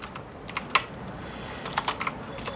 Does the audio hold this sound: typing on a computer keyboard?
yes